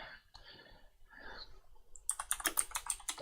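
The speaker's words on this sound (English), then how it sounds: "terrible typer on this keyboard" Rapid clattering keystrokes on a computer keyboard start partway through and continue as a dense, close burst of clicks after a quieter stretch of faint background sound.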